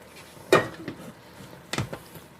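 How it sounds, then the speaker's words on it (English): Stirring tomato powder in an enameled Dutch oven: two distinct scraping, clattering strokes of a utensil against the pot, separated by a quieter pause, close and fairly clear with no talk. "stir this around"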